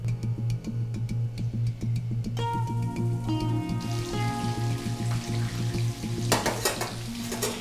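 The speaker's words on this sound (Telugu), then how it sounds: "ఆయిల్ హీట్ అయిపోయింది, ఇందులో మనం మ్యారినేట్ చేసుకున్న చికెన్" Marinated chicken pieces for chilli chicken dropped into hot oil, bursting into a loud, close, crackling sizzle with scattered pops, joined by metal utensil clinks against the pan and a steady hum beneath.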